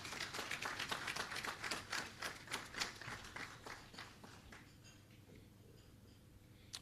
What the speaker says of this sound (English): we would like to give a round of applause to the staff and CEO